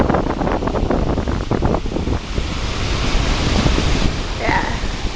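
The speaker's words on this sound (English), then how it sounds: "way out on those rocks over there, you can see the waves hit them" Surf breaks against rocks off the shore of Iona in January, a continuous wash of waves under heavy wind buffeting the microphone. The sound is moderately loud and steady, with no clear voices.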